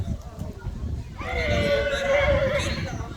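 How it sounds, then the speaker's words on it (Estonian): A young horse in a show ring at a breeding livestock event gives a loud, drawn-out whinny lasting a couple of seconds, with some background noise and faint voices around it. "Teine noor hobune siin ringis"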